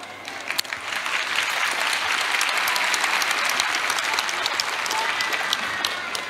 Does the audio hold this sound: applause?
yes